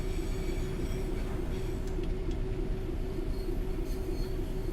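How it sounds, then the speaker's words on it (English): A British Rail Class 375 electric train pulls into Faversham station in Train Sim World 4, a steady rolling rumble of wheels on track with faint squeals and clicks, moderately loud and continuous, without talk. "And there's a 375 also coming to the station."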